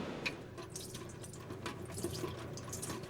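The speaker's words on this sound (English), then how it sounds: "The water jet pulsing in this fountain is controlled by a computer." A computer-controlled fountain jet pulses water, giving a quiet, close splashing and trickling with small drips and bursts, faint and steady with no voices.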